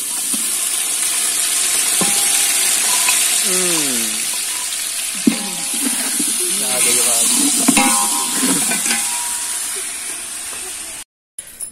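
Rice cooking in a pot over a steady loud sizzle and hiss, with a spoon scraping and stirring intermittently; someone speaks briefly over the cooking near the end.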